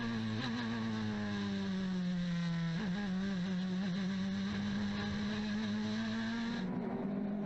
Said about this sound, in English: The 24 cars await the green flag. And away we go for the 6-hour race